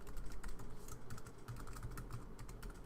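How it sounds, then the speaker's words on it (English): Quiet, rapid keystrokes come from a computer keyboard in an even run of clicks, faint and close, with no talking. "Type in your school email in the dialog box."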